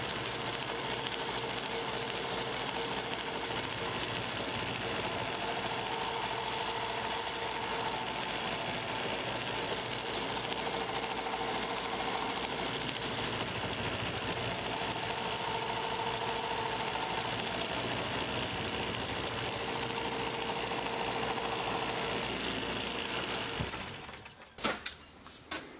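A bench grinder sharpens a woodturning gouge, giving a steady, loud whirring drone with grinding noise that runs continuously for most of the clip, then cuts off abruptly near the end, leaving a few short clunks.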